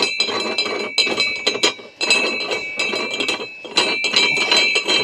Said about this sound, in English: we need to unscrew this collar here